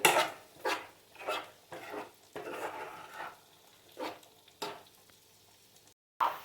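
Gummidikaya (gourd) pieces fry on high flame with quiet sizzling and repeated spatula stirs scraping the pan in irregular bursts, fairly close and low in level.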